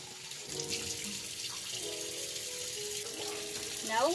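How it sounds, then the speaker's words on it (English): A tap runs steadily during surgical hand scrubbing, a soft continuous stream of water into a sink with faint splashing and small tonal shifts, heard alone at low level. "we will clean our fingernails under the running water"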